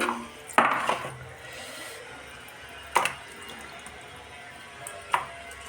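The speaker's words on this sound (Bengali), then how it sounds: "মাছগুলোকে ধুয়ে নিচ্ছি" Fish are washed in water, with three distinct splashing sloshes spaced about two seconds apart over a low background, close and fairly quiet, no voices.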